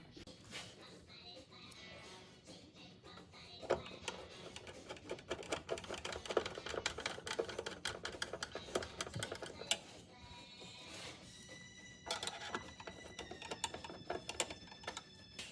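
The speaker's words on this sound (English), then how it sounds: "So I'm going to put the other screws in." Screws being driven into a 1964-66 Thunderbird dashboard during assembly, heard as dense, quick clicking and ratcheting taps at close range that keep going throughout, with some talking in between.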